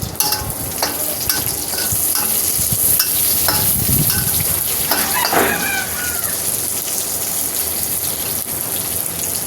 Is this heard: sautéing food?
yes